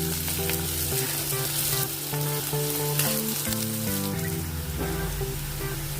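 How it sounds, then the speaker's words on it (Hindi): Chopped onions frying in a pan for methi matar sabzi, a steady close sizzle with light crackling throughout, with background music playing over it. "अभी इसमें प्याज डालेंगे। इसको भी थोड़ी देर भून लेंगे।"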